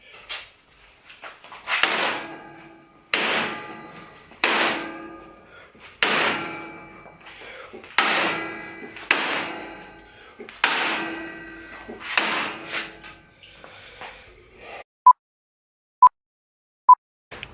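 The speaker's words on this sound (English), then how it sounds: "Mini sledge." A mini sledgehammer strikes a bracket on an Africa Twin motorcycle skid plate, about ten loud, evenly spaced metallic clangs with ringing decay, followed by a few short sharp taps near the end.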